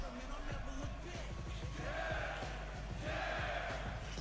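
A tournament crowd at a Combobreaker fighting-game event cheers and yells in a steady, dense roar, with rising whoops and shouts swelling twice, heard from a distance through the broadcast.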